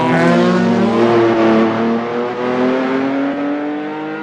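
An Abarth car engine revving loud and close, a sustained high buzzing roar that holds steady near its limit, with a pitch that wavers and slowly falls, no voices.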